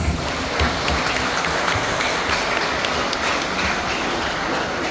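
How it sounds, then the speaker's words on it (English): Sustained, loud applause from a crowd at a Grade 12 high school graduation ceremony, dense clapping filling the space for the whole stretch with no voices above it. "What about a resounding applause?"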